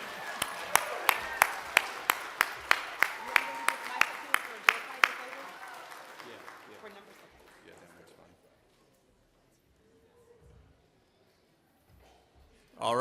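Brief applause from a keynote audience for a pianist and a board member: a handful of sharp, evenly spaced claps for about five seconds, fading into quiet, with a voice starting at the end.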